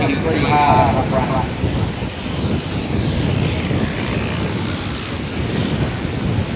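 An Air New Zealand Beech 1900D propeller aircraft coming around for another run down the runway at a display; a loud, sustained turboprop drone that swells and fades slightly as a voice talks over it.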